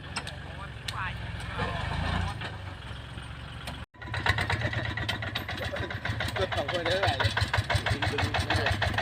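A stock engine on a farm cart at Khanu, Kamphaeng Phet runs steadily and loud throughout, cutting out briefly near four seconds before resuming with a strong, rough drone while voices talk over it.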